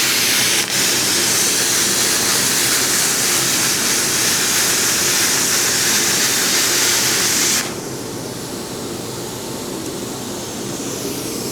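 ARCCAPTAIN CUT55 PROLUX plasma cutter slicing through metal with a loud, steady hissing roar that cuts off abruptly, leaving a quieter airy hiss of air flow.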